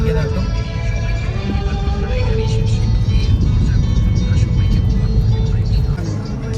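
A car pulls away from the Krishnanagar–Baharampur highway toll plaza, its engine and road noise a loud, steady rumble inside the cabin that builds slightly as it gains speed, with a person talking over it.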